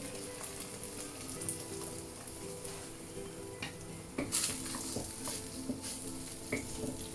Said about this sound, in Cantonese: 韭黃都可以爆下佢先，我喺側邊落。